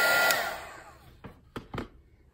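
A crafting heat tool blows hot air to melt embossing powder on a stamped card, a loud close whir that fades out within about a second, followed by a few light clicks.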